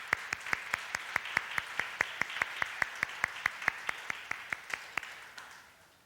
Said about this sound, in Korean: 격려의 박수.